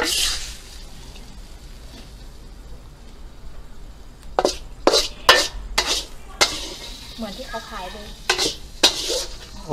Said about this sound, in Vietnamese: mình sẽ xào thẳng luôn